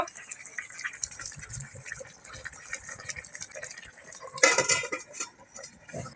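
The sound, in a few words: covering a pot of fish kofta curry with a lid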